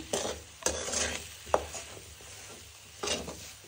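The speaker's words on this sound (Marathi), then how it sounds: "तर आता आपण त्याच्यामध्ये एवढी कोथिंबीर घालू आणि सगळीकडे मिक्स करून घेऊ. तर छान परतून घेऊ, सगळं मिक्स करून घेऊ." Potato paratha filling with fresh coriander gets stir-fried in a pan, a gentle sizzle broken by several distinct spatula scrapes and knocks against the metal, spaced irregularly and heard close up with no talking.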